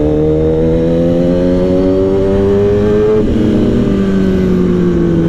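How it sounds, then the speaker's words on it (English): A 2015 Kawasaki ZX10R with a loud aftermarket Kaibo exhaust holds a steady, powerful engine drone with rising pitch, shifting briefly midway then droning on, loud and close throughout with no talk. "This bike with Kaibo's exhaust is very loud, yeah, very loud."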